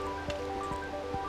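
The Mandeo river flows beside a riverside path in the Chelo area near Betanzos, making a steady close wash of water with a few soft drips and splashes.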